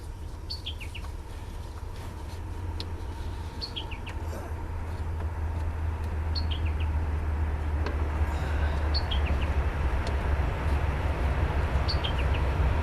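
A train rumbles past in a long low drone that slowly swells louder and stays close, while repeated chirping bird calls sound over it every couple of seconds; no one speaks.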